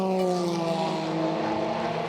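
A Porsche race car approaching during the 6 Hours of Silverstone endurance race, its engine a loud sustained tonal whine with the pitch shifting slightly as it nears, no voices over it.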